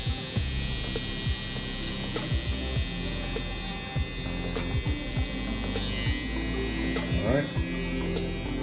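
Electric hair clipper buzzing steadily while a barber trims a beard, a low mains-like hum running throughout beneath brief speech.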